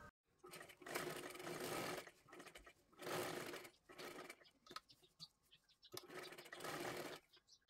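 Sewing machine stitching the neckline of a princess-cut blouse, faint close whirring runs in three main bursts of about a second each, separated by short pauses with light handling noise.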